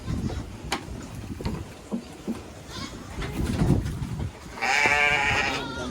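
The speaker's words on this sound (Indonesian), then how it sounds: "Domba ya, domba." Sheep or goats at a farm tourism park in Serang, with a loud, wavering bleat in the last second or two over steady outdoor background and scattered nearby voices.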